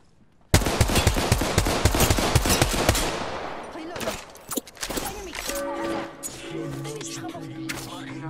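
Automatic gunfire in the battle royale game Apex Legends, a dense burst of rapid shots for about two and a half seconds, then scattered single shots and crashes under game sound effects and a voice.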